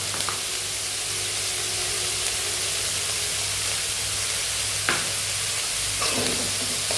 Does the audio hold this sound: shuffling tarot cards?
no